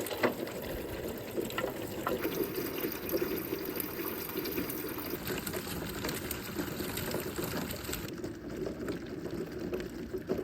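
Water runs steadily through a newly installed shed gutter system, a continuous, faint trickling rush with no voices.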